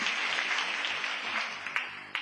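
Church congregation clapping in praise during a sermon, a steady wash of hand claps sustained throughout, with a few sharper claps standing out near the end.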